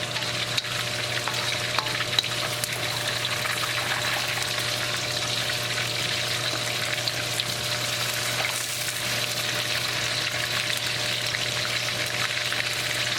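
A batch of chicken pieces frying in oil for chilli chicken, an even, continuous hiss and sizzle heard close up with a faint steady hum beneath, no voices.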